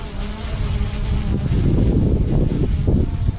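An SJRC F11 quadcopter drone hovers nearby on a test flight with a steady, insect-like buzzing whine over low rumbling wind noise.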